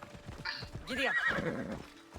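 A horse in Assassin's Creed Odyssey whinnies sharply, a rising-and-falling neigh, while hooves clip-clop in quick galloping beats close by.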